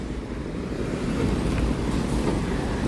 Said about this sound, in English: We just watched the Shinkansen pass by after we went through the train tunnel over here.